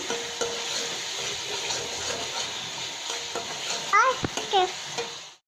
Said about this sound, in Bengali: এখন আমি আদা জিরা পেস্ট করা ওগুলো দিয়ে নেড়ে চেড়ে নিচ্ছি।